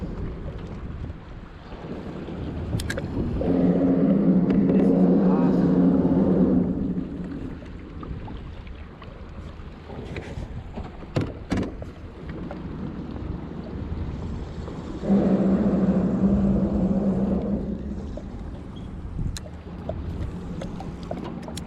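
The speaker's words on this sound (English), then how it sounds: "And it is windy." On a boat in Tomoka marsh, wind buffets the microphone in two strong, low, rumbling gusts with quieter, steady blustering between them, and no voices.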